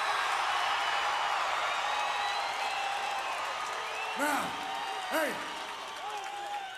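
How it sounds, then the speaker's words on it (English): A wrestling arena crowd cheers and roars steadily throughout, a dense distant wash of voices with a couple of brief whistles or whoops rising near the end, while someone talks over it. "they're cheering me now"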